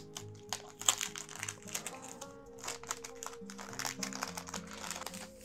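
Crinkly plastic packaging around stickers bought at a sticker and design store is opened by hand, producing close, quiet bursts of crackling and rustling with small taps, over a faint steady background tone.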